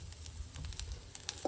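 Grated coconut roasting dry in a pan, a faint, soft crackle and patter with scattered small ticks, quiet and close.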